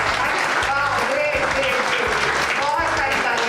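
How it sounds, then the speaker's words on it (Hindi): Dense applause from an audience fills the space, loud and continuous, with a voice or tonal sound running over it throughout. "बहुत सारी तालियां"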